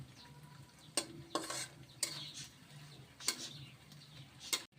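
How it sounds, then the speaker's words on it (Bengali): Fish frying in a pan for a Bengali Pohela Boishakh meal, a quiet sizzle with a few sharp spatula taps and scrapes spaced about a second apart, no voices. "এই দেখো ভাজতে ভাজতে কাঁটাটা বের হয়ে গেছে।"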